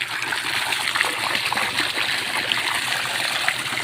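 Water drawn from a deep well pouring into a blue tank, a continuous loud splashing and trickling rush that holds steady throughout.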